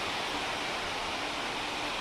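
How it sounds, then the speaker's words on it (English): Steady, full-band rush of water pouring through a dam spillway below an Appalachian Trail overlook, a continuous broadband roar with no breaks, heard from a distance. "I can't see any water down there, but I hear it rushing."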